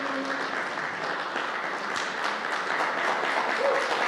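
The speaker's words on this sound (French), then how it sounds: "Est-ce qu'on peut acclamer le Seigneur pour Rémi qui s'avance?" A church congregation applauds steadily and close by during a Sunday morning service in Roanne, welcoming the preacher forward, with broad sustained clapping throughout.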